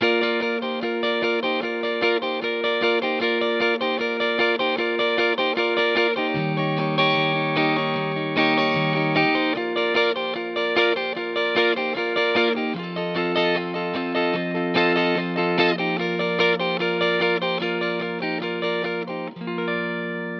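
A steady strummed electric guitar with a capo, distorted, effected tone, plays a repeating twelve-bar blues progression on three chords, chords shifting every few bars without pause.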